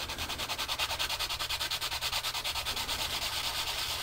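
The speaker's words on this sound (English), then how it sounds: "now take your sandpaper." Sandpaper is rubbed quickly back and forth over the battery holes of a small button box, making a steady, close, rhythmic scratching that repeats several times a second throughout.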